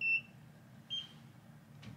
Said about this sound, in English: once you hear the second beep